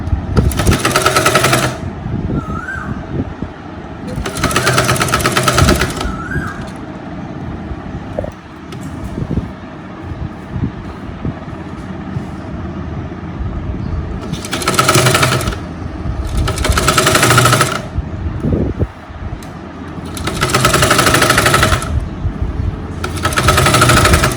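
A sewing machine stitches round the neckline of a lined top in loud, fast mechanical bursts, each running a second or two, with quieter pauses between them.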